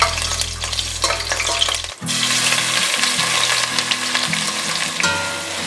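Slit green chilies sizzle and sauté in hot oil and ghee, a steady loud crackling fry that continues throughout with stirring, while background music plays.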